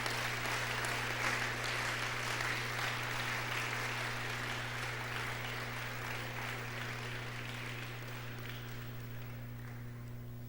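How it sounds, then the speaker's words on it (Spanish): A church congregation applauding during a Spanish-language service, a faint, distant, steady patter of clapping over a constant electrical hum that fades slightly toward the end. "Démosle un aplauso al Señor y seguimos."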